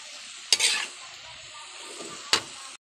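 Pancit bihon sauce bubbles and sizzles in a pan, a steady close simmering hiss broken by two sharp louder scraping stirs.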